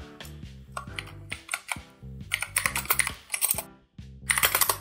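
Rapid computer keyboard typing in bursts, with keys clattering close and loud while a folder is renamed on a PC during a Ubisoft Connect game-file fix, no speech.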